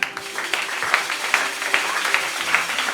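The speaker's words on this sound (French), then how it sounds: "On acclame pour Jésus." A church congregation claps in a steady rhythm, roughly two beats per second, while voices sing and acclaim over the clapping.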